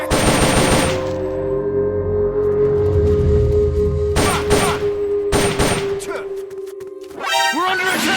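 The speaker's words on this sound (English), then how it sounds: "Hey, you hear that? Gunshot! Enemy attack!" In the video game Metal Gear Solid: Peace Walker, several short bursts of automatic gunfire crack out over a sustained droning tone and other game sounds, with a louder flurry near the end.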